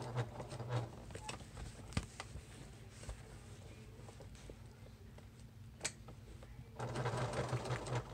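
A sewing machine stitches the end piece of a barrelette clutch purse, running in a steady rapid patter with a few brief pauses and a louder, denser burst of stitching near the end.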